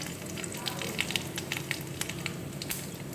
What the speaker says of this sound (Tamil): இப்போ மஞ்சள் பொடி சேர்த்துட்டு நம்ம ரசம் தாளிச்சிடலாம்.